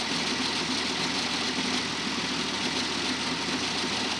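A tractor-driven baler runs steadily while wrapping a bale in net wrap, its engine a continuous loud mid-pitched drone with a rough vibrating edge and no talk.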